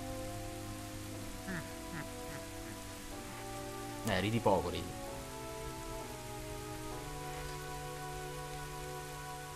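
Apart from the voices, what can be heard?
rain in The Legend of Zelda: Ocarina of Time video game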